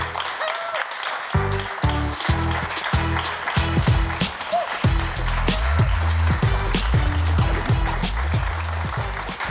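A French television studio audience applauds the arriving guests, dense sustained clapping with a few whoops, loud and close and continuing without a break to the end.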